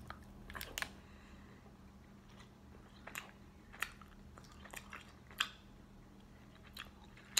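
Someone chews a Quest chocolate chip cookie dough protein bar close to the mic, with soft, sticky bites and scattered crunchy clicks at an irregular pace, alone over a low background hum.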